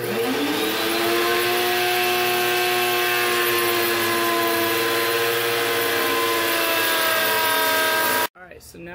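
A router whines loudly and continuously as it trims a wooden guitar body, a steady high-pitched machine roar that cuts off abruptly near the end.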